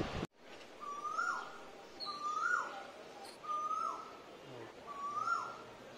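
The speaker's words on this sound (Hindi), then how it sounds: "यहाँ कोयल की आवाज चल रही है कू कू" Asian koel calling in the morning, four rising whistled calls spaced evenly and heard at moderate distance over faint outdoor ambience, after a brief thump at the start.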